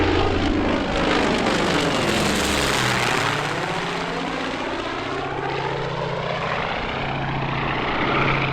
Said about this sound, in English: This is a carrier onboard delivery version of the S-2 Tracker anti-submarine warfare aircraft